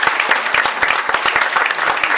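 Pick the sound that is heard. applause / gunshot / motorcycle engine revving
applause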